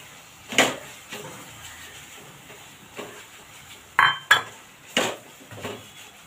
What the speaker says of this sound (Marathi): ते तेलावर चांगलं मिक्स करून घ्यायचं आहे।